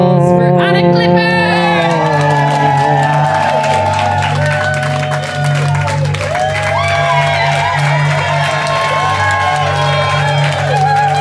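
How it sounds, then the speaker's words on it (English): Audience applause and cheering at a stand-up comedy show, loud sustained clapping and whoops under strong music throughout. "want you guys to give a round of applause for Anna Clifford"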